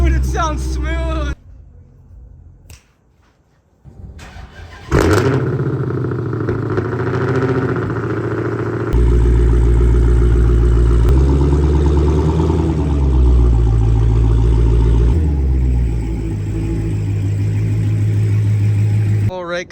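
A Dodge Hellcat's engine runs loud and close after the car is moved outside, a deep, steady rumble with some revving and shifts in pitch.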